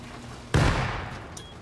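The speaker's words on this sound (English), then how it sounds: "Nade, it's coming in." A grenade goes off during a cave base defense in the video game Rust: one sudden loud blast whose rumble trails away over about a second.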